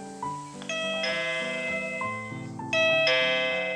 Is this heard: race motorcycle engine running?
no